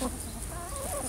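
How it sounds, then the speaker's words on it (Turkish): Chickens cluck in a farmyard flock that includes a rooster, giving a brief burst of soft, close clucking over steady background noise. "Bakın bir de erkek horoz var."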